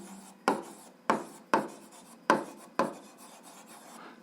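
A pen or pencil writes on paper while working a math solution: scratchy strokes in short bursts, about six of them, close up and quiet with no talking.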